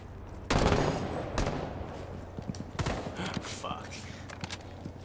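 Gunfire in Rainbow Six Siege: a heavy burst of shots up front, then scattered single cracks and short bursts over the next few seconds, loud and close, with voices talking in between.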